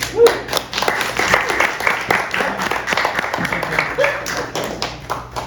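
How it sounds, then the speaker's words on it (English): Audience applause welcomes oboist Megan, a doctoral student in musical arts, at a reed quintet event; the clapping is moderately loud and uneven, with a few sharper individual claps standing out and faint voices underneath. "A round of applause for Megan."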